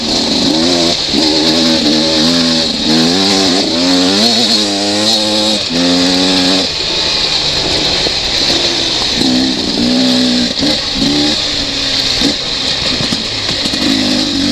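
A Beta 300RR two-stroke dirt bike engine runs continuously while being ridden, loud and close, its pitch climbing and dropping through gear changes at part throttle, with a steady high rasp underneath.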